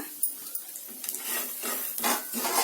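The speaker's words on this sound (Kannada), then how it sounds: "ಗಸಗಸೆ ಸ್ವಲ್ಪ ಚಟಪಟ ಅಂದ ತಕ್ಷಣ" Poppy seeds frying in a pan over a medium-low flame while a spice powder is made, giving a close series of irregular crackles and clattery stirring bursts with no talking.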